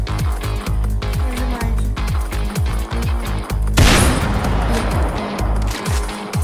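Rapid gunshots in a Roblox shooter game sound as a steady, loud stream of close, punchy bursts. A burst of harsh noise cuts in midway, and the shooting continues with little pause.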